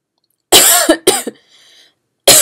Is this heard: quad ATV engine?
no